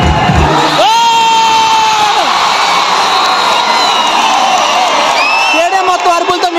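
A packed stadium crowd at a Pro Kabaddi League season 10 match between Telugu Titans and UP Yoddhas roars without a break, with loud cheering, whoops and high shouts swelling over a dense wall of noise.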